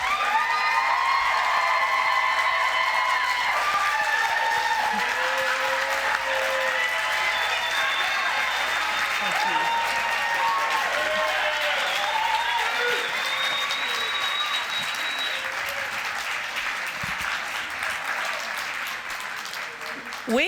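Audience applause and cheering in a packed auditorium for newly pinned nursing graduates at a community college pinning ceremony, sustained clapping with whoops and shouts, gradually easing over about twenty seconds.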